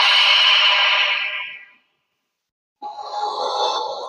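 A monster in the Roblox game Insane Elevator lets out a harsh, echoing growl that fades away, followed by a short silence and then a second rough, raspy roar.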